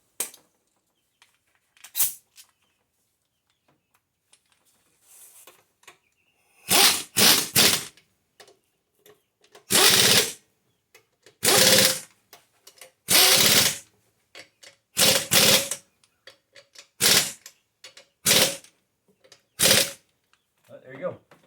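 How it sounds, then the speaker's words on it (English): Impact gun driving beadlock ring bolts to 40 foot-pounds, heard as a series of short, loud, close rattling bursts separated by pauses, roughly a dozen in all with quiet handling between. "Let me set my gun to 40 foot-pounds of torque."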